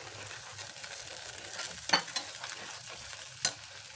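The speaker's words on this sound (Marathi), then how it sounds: "सारखं हलवायचं म्हणजे चिकटल्या जाणार नाही खाली" Chilli paneer is stirred and fried in a pan, a soft continuous sizzle broken by a few sharp scrapes and clinks of the spoon against the pan, faint and close.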